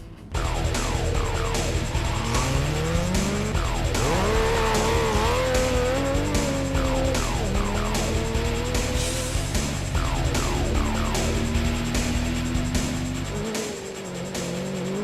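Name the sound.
off-road rally car driving on dirt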